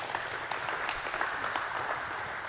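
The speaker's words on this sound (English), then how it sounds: "can you please give these girls a round of applause?" A girls' basketball team receives a round of applause at a coaching session, with a faint, steady patter of scattered claps continuing for a couple of seconds.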